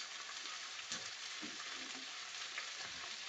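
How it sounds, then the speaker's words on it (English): Potatoes go into a pot of cooking food with sausage, baked beans and garlic, giving a soft, steady sizzle and hiss that runs evenly throughout, fairly quiet and with no voices. "I'll put my potatoes in now."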